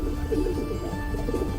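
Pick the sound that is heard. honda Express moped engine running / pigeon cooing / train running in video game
pigeon cooing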